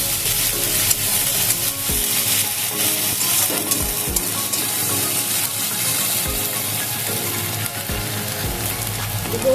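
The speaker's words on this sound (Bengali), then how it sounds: "দেবো আদা রসুন বাটা, নাড়াচাড়া করে নেব" Ginger garlic paste and spices fry in oil for a fish dish, a continuous close sizzle with repeated rhythmic stirring scrapes from a utensil against the pan and no talking.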